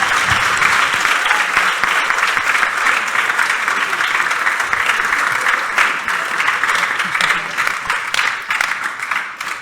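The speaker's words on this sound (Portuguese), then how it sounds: "Ela merece uma salva de palmas." A large audience at a public debate at the Fólio festival breaks into sustained applause, a dense, loud wash of clapping that holds steady without a break.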